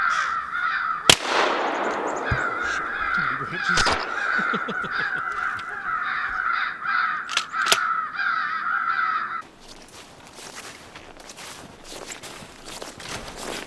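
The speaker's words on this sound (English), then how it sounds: "Crows over here." Repeated harsh crow caws carry through a snowy winter woods near a cabin, loud and continuous for several seconds, with sharp footstep crunches and a couple of knocks mixed in before the calls stop and quieter rustling follows.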